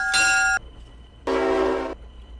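Two loud blasts of a train horn from a locomotive in the Minecraft Immersive Railroading mod, the first short and bright, the second longer and deeper, with a quiet pause between.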